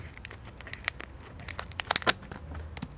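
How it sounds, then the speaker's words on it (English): Quick, crisp snipping and crinkling sounds of scissors cutting through thin insect screen mesh, several irregular cuts close by with a little rustle. "then you can cut it with scissors pretty easily"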